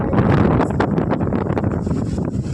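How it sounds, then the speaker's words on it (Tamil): Strong wind buffets the microphone in loud, continuous gusts, with a rushing roar and some rustling, no voices. "எவ்வளோ காற்றுன்னு"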